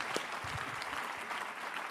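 An audience at a seminar talk claps in steady, dense applause that holds at an even level for the whole stretch, with no voices over it.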